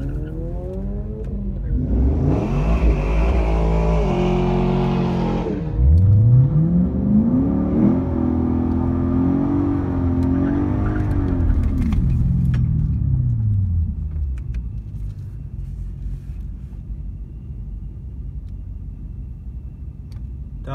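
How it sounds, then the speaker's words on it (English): A supercharged Dodge Magnum SRT8 on slicks launches at a drag strip, its engine roaring loud and rising through several gear pulls before fading as the car moves away. "Dodge Magnum SRT8 running on slicks and a supercharger."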